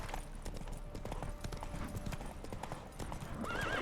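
Horse hooves clip-clopping at a steady trot in The Witcher 3 video game, with an occasional whinny over continuous ambient noise, fairly quiet and even throughout.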